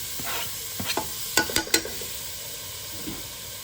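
Soft sizzling of celery, onion and bell pepper in a hot pot, with a few stirring scrapes and clatters partway through.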